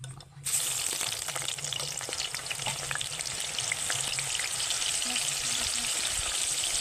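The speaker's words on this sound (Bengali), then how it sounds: "তেলটা ভালোভাবে গরম হয়ে গেছে, এইবার একে একে সাউরগুলো দিয়ে দেব।" Shrimp fritters deep-frying in hot oil in a pan give a steady, close, dense crackling sizzle that starts abruptly and holds without pause; no one speaks.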